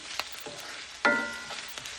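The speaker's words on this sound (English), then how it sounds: "I heated up some olive oil and then I chopped up a small sweet onion, really small, and we're just going to start sauteing this" Chopped small sweet onion sautéing in olive oil over low heat in a cast iron pan, giving a soft, steady sizzle with a few sharper crackles and stirring clinks, close and alone.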